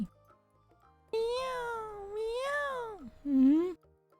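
A cat meows loudly and close by, with two long, drawn-out, rising and falling calls followed by a shorter, lower meow, with nothing else heard around it.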